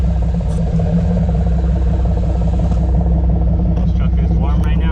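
A pickup truck fitted with a 2.5 inch dual straight-pipe exhaust idles with a steady, loud low rumble, the engine held warm and even throughout with faint clatter on top.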